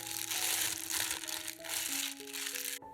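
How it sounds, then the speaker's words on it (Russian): A plastic piping bag crinkles and rustles as it is filled with a cheese and mayonnaise mixture and handled, steady close crackling throughout, ending abruptly. "Приготовленную массу кладем в кулинарный мешок."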